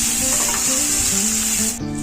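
Potatoes and capsicum fry in a pan with a steady, loud hiss of oil and a faint stirring scrape, continuous throughout without voices.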